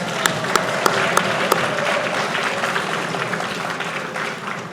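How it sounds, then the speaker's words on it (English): Steady applause from an audience at a PVN 45th anniversary event honoring a village council president, sustained and fairly loud with a few sharper claps standing out early on, then easing slightly at the end. "let's give her a big round of applause"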